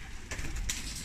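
A racing pigeon coos in short, soft, close calls amid low outdoor rumble at a pigeon race finish, with no speech over it.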